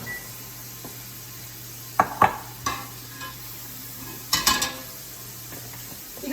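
Meat filling for pasties cooks in a pan with a soft, steady sizzle beneath sharp scraping and clinking as a utensil stirs against the pan, a few knocks spaced apart.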